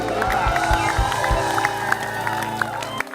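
Studio audience of an Indonesian comedy talk show crowd-cheers and applauds loudly, a dense steady wash of clapping and shouting with some voices mixed in, ending abruptly.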